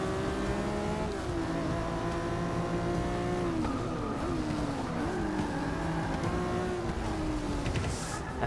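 A race car engine in the video game Forza Motorsport 6 revs continuously with shifting pitch through gear changes and a brief tire squeal near the end, loud and close throughout.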